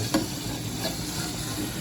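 Onions sizzle and crackle steadily in a hot pan, a continuous close frying hiss with a brief stir.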